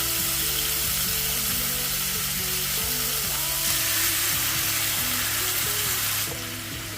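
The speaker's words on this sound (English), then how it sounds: "You want to hear that sizzle when you put it in that hot pan." Marinated chicken breast sizzles in a hot pan with olive oil, a loud, steady frying hiss throughout, with a low mechanical hum underneath and a drop in level near the end.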